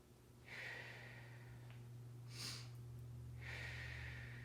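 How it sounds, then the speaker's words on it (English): A person breathes slowly through a core breathing exercise, with two soft, airy exhales heard close and quiet over a low steady hum, and a brief sniff-like breath between them. "and then gentle exhale"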